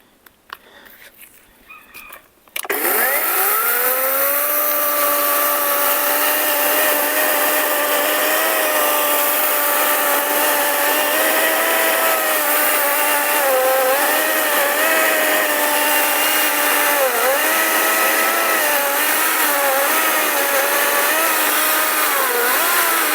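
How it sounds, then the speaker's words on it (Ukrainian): A Start Pro SCS/B-21/16 cordless chainsaw cuts wood, its motor spinning up sharply after a quiet start and then holding a loud, steady high whine with slight pitch dips as it bites through the log. "Давайте будемо пилять сирий дуб і побачимо, наскільки нам вистачить батарей."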